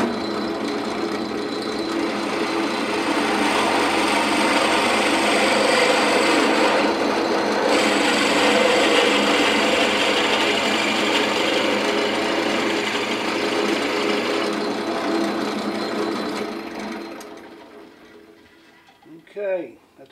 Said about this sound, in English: Okay, that's a 3/4 inch hole to fit our 3/4 inch mandrel.